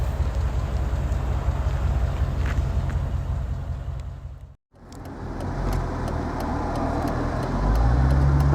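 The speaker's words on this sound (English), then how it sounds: "we'll just give you a buzz of the road in this low mileage SL55 AMG" A low-mileage 2003 Mercedes SL55 AMG drives on the road, a steady broad rush of engine and tyre noise heard from inside, briefly cutting out midway before resuming and swelling louder at the end.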